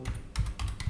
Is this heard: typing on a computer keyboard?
yes